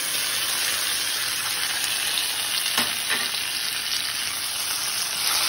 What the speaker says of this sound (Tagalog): Lutuin na natin ang tomato guys.